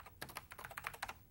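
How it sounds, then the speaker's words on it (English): Quick keystrokes on a computer keyboard while entering a name and pressing a find button in a database program, a dense burst of clicks across about a second, close and fairly quiet, with no talking. "find where Rick lives by typing in Rick and pressing the Find button"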